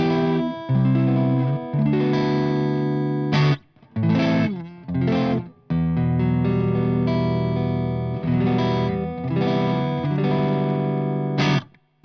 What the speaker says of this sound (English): if I use the neck pickup here and just roll the volume off a little, I'll probably get quite a clean tone back without turning off the pedal